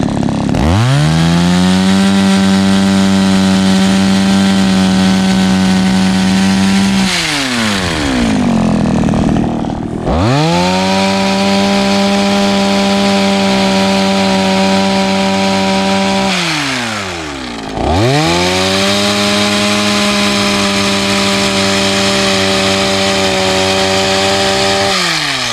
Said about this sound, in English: you can push that single-sided blade against the tree and cut away from it each time